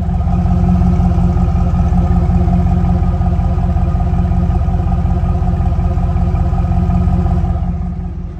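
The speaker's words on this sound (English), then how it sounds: "Let me let you hear the exhaust." Exhaust of a 1999 Pontiac Firebird Trans Am WS6 with a quiet factory exhaust, running loud and steady with a deep, even rumble close up, easing off slightly at the very end.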